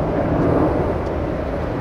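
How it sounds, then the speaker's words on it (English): A propeller or jet airplane passes overhead outdoors, where a 2019 and a 2020 Toyota 4Runner TRD Off Road are parked, making a steady, broad low roar that holds at a fairly loud level throughout with no voices. "Plane coming overhead, plane in the house."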